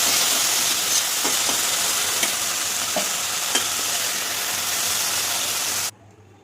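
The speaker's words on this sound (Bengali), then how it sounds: "সর্ষে তেল দিয়ে দিলাম, একটু ভাজা ভাজা করবো।" Okra sizzles and fries in mustard oil in a pan, a steady hiss with occasional stirring clicks, close and loud, cutting off abruptly near the end.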